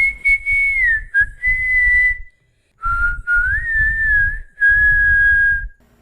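A long eerie whistle drifts and bends in pitch, broken into phrases with short gaps, heard close over a low rumbling background.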